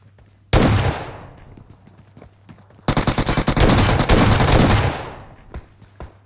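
Rapid automatic gunfire from a PUBG Mobile match, first a short burst and then a longer sustained volley of close, loud shots after a pause.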